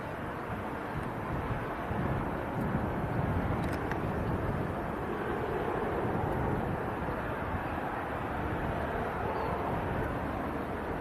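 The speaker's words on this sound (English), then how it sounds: "2 Ryanair's taxiing out and a 3rd Ryanair on the push." Ryanair airliners taxiing at Leeds Bradford Airport give a steady, distant low engine rumble mixed with wind noise, unchanging across the stretch.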